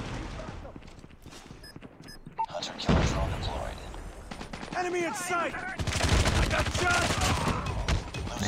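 Rapid automatic gunfire bursts and single shots from the mobile shooter Call of Duty Mobile crackle through the match, mixed with game effects while a player talks excitedly over the action.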